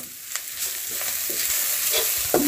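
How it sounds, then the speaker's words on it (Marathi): Onion and grated coconut being stir-fried in a pan for a Malvani crab curry, with a steady close sizzle and scraping spoon strokes clattering against the pan several times. "आता आपण त्याच्यात खोबरा टाकतो परत आणि ह्या आपण पूर्ण परतून घेतलो."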